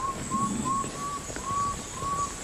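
A fishing lure worked on the water to mimic a water bird and call in wolffish in Suriname gives repeated thin whistles in a steady rhythm, with light splashing disturbance on the surface beneath.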